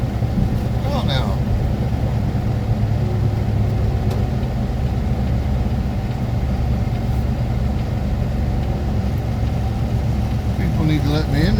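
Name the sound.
Chicago street traffic from a pickup truck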